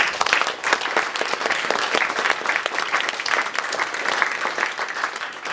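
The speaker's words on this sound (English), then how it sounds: "a big applause for these guys who gave us this kind of night" A crowd applauds fighters after a Bellator MMA event at Revel, dense, steady clapping at a moderate distance sustained throughout.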